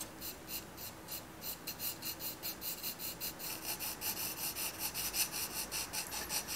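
Faint, rhythmic scratching of an EB graphite pencil laying fine dense strokes on paper while drawing eagle feathers, close and quiet, strokes repeating in quick even succession with no voice.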